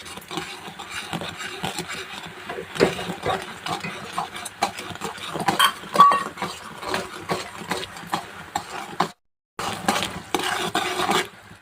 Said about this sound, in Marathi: तर बघा भरपूर साखर वितळलेली आहे आता असं ढवळत राहायचं आहे